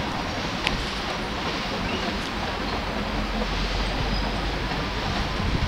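A train rolls past near Tulsa International Airport, a continuous broad rumbling roar that stays loud and steady throughout, with no voices.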